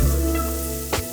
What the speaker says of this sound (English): We gotta toss our bean sprouts so they're getting a little too much heat.